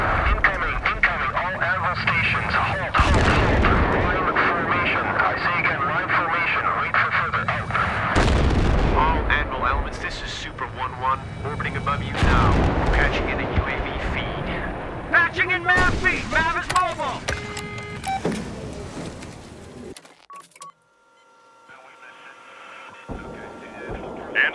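Incoming artillery fire in the Battlefield 3 mission Thunder Run: heavy, booming blasts and rumbling impacts roll one after another, loud and close, mixed with shouted voices and aircraft drone before it drops away near the end.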